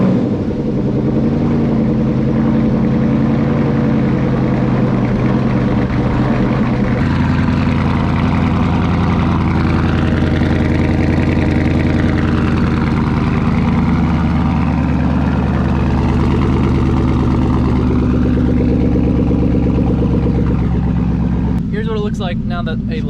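A car engine turns over and settles into a loud, steady idle that runs close and continuous throughout, with a low rumbling drone and a brief burst of clatter near the end.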